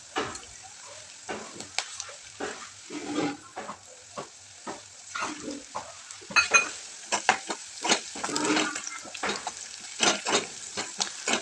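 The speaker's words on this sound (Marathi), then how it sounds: "छान असं परतून घ्यायचं आणि नंतर ते सगळं तळलं छान" Green chillies and curry leaves sauté in a pan for upma with a soft sizzle and irregular spoon stirring and scraping against the metal, close and moderately loud.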